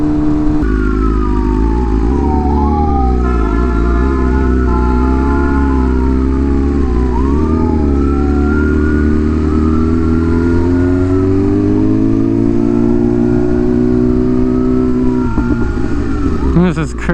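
An ambulance siren wails in long rising and falling sweeps over a steady BMW M1000RR motorcycle engine and canyon road noise, with people talking throughout.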